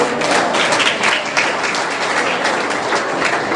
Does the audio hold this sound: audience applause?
yes